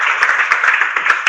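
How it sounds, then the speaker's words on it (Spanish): A brief stretch of crowd applause at a free business seminar, steady clapping with a few sharper claps standing out. "Le vamos a dar un aplauso, por favor, a Román."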